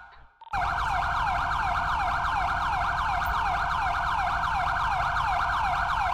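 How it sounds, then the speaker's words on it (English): Police car siren in a video game roleplay, wailing loud and close in steady rapid cycles after a brief quiet start, with a constant engine-like rumble underneath. "Siren check."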